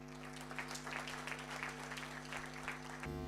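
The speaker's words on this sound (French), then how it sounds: "Applaudissez pour cette activité." Audience applause at a presentation, quiet and distant clapping over a steady electrical hum, which changes pitch near the end.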